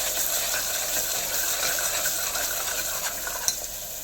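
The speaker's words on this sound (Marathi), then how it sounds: "वाटलेला मसाला मस्त भाजून घ्यायचा परतून घ्यायचा तेलात" Ground masala paste frying in oil, a dense, continuous sizzling hiss with faint scraping of a spatula, close and steady with one small knock near the end, no talking.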